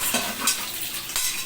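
Food is stirred and fried in a large kadai, a spoon scraping and clinking against the metal in irregular strokes over a soft, continuous sizzle, close and moderately quiet.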